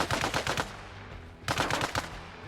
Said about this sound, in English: Little World War II Special Forces operation sort of SMG.